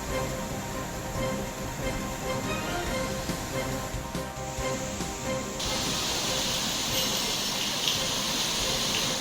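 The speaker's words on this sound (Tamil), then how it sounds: "தென்காசி மாவட்டம் குற்றாலத்தில் உள்ள அருவிகளில் வெள்ளப்பெருக்கு ஏற்பட்டுள்ளது" A flooded waterfall at Courtallam in Tenkasi district, swollen by heavy monsoon rain, roars as a steady, loud, dense gush of water that never lets up and grows slightly brighter partway through.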